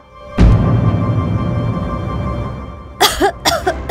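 A loud burst opens the clip, followed by a sustained hum, then three sharp coughs in quick succession near the end.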